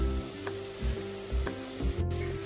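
Grated carrots sauté in ghee for carrot halwa, a continuous close sizzle punctuated by four regular stirring scrapes in the pan; no talk.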